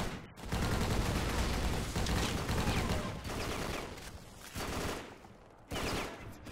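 Gunfire rages in the World War II video game Battle for the Pacific on Iwo Jima: loud, continuous bursts of rifle and machine-gun fire overlap with only a few very brief breaks.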